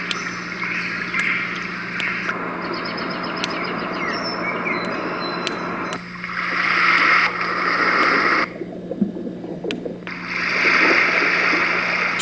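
A TKTK white noise machine plays its surf setting. The soft rushing wash of waves swells and recedes in broad bursts, with faint chirps and ticks over a low steady hum, continuous and close with no voices.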